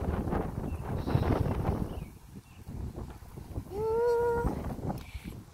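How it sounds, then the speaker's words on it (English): Gusty wind blows outdoors across a permaculture food forest garden just before rain, a rough rumbling buffet over the microphone that rises and falls, with a brief tonal squeak midway. "It's windy out here."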